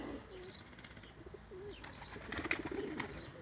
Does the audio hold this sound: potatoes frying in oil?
no